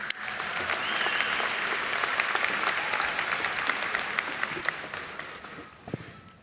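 A graduation audience at Central Virginia Community College claps steadily as the college president is welcomed, a dense, sustained round of applause that fades out near the end.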